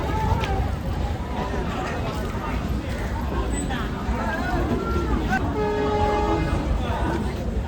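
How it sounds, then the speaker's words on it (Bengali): A long-distance train rumbles past nearby, its steady roar mixed with crowd chatter and a drawn-out horn toward the end. "আর এই পাশে থেকে ট্রেন যাচ্ছে"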